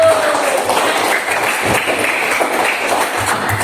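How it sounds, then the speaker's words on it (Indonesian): Classroom applause for a student group that has just presented on the lungs: a steady, dense patter of many hands clapping fairly close, lasting the whole stretch without a break. "Beri tepuk tangan untuk kelompok paru-paru."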